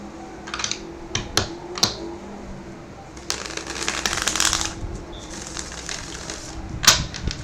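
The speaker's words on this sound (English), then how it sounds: "One more shuffle." Several quick riffling bursts of shuffling a deck of tarot-style reading cards, crisp and close, with short sharp snaps between them and a longer flurry in the middle.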